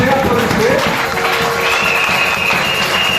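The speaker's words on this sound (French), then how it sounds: "Applaudissez, applaudissez." Audience applauding at a Sunday school children's performance in a church in Kolwezi, a steady wash of clapping filling the whole moment, with voices and a faint tone mixed in.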